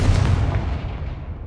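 A Confringo blasting spell explodes in a video game, a single loud booming burst with a deep rumbling tail that fades over about a second.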